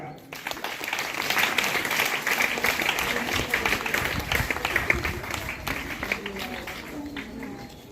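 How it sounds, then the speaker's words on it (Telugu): Audience applause at a school's Independence Day celebration: sustained, crowded clapping that rises and holds, with a voice speaking over it. "చప్పట్లు గట్టిగా."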